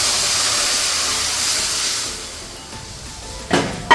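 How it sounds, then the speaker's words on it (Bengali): Dal poured into a hot frying pan over already-fried ingredients, giving a loud, steady steam-like sizzle that slowly eases, with a couple of sharp hissing bursts near the end. "এবার আমি ডালটা এখানে দিয়ে দেবো।"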